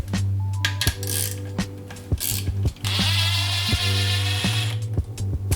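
Ratchet clicking while removing 10mm bolts from a Mazdaspeed 3 transmission during a rebuild, quick metallic ratcheting bursts close up over a constant machine hum, with occasional sharp clinks.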